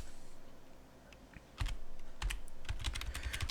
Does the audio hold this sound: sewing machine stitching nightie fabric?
no